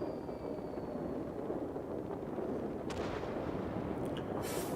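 A B-17G bomber's bomb load exploding in a flight video game, heard as continuous heavy, low rumbling booms that blend into a dense, steady roar with no clear gaps.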